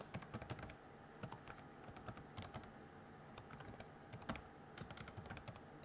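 Quiet, close typing on a computer keyboard as a command is entered, a steady patter of light key clicks in uneven bursts with no talking.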